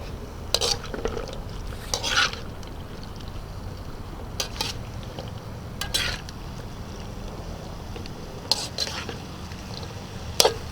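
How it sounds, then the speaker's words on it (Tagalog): Kangkong and tofu being stirred in a pan with a little water, a low steady simmer and sizzle punctuated by occasional sharp spatula scrapes and metal clinks against the pan, close up. "Hahaluin lang po natin"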